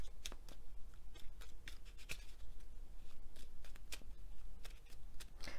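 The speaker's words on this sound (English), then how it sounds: "Okay, I think that's nicely shuffled." Oracle cards shuffled by hand at close range, a steady run of soft riffling flicks and papery slaps that carries on alone for several seconds.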